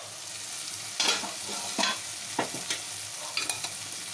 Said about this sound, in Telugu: మధ్య మధ్య కలుపుతూ ఉండాలండి, అడుగు అంటుతుంది.